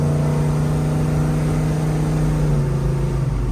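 A 1972 Chevrolet Chevelle's tuned engine hums strongly while driving, a steady loud drone with a sustained low tone and slight rise in pitch, alone without voices.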